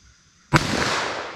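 A single shot from a .357 Magnum revolver fired single action during ballistic gel testing, one sharp loud blast with a long decaying tail after a quiet moment.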